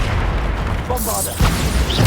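Bombarda explosion spell in Hogwarts Legacy, a deep booming blast with rumbling low end followed by a second thump, loud and close, with a voice speaking over it.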